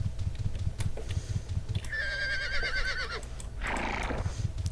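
A pack horse in a video game gives a clear, drawn-out whinny in the middle, followed by a brief snort, over a steady low game background. Faint hoof clip-clops are mixed in.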